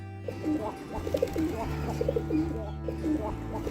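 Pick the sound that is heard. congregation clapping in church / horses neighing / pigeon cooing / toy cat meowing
pigeon cooing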